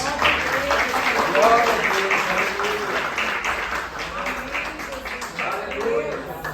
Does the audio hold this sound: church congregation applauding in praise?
yes